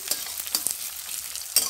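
Chopped onions, cut fairly large, sizzle in a pan, a steady close frying hiss with a few sharper crackles and pops near the start and end.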